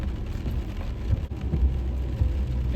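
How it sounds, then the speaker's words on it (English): Heavy rain keeps falling on a street lined with potholes, a constant close patter and splash, with the low swish of passing cars blending through the downpour. "It's raining and people are in the park."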